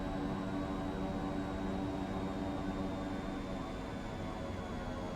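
A steady, loud drone from the engine of an Epic E1000 turboprop aircraft in a flight simulator game runs unbroken and even the whole time, with a faint voice underneath.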